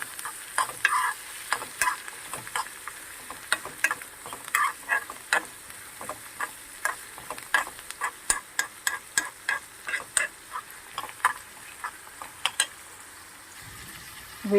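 Green chillies and coriander leaves frying in a pan: a soft sizzle runs underneath while a utensil scrapes and clicks against the pan in quick, irregular strokes throughout, with no talking.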